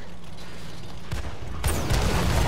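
A Panzer V/IV tank cannon firing in World of Tanks on console: mechanical creaking and clanking, then a sudden loud blast near the end.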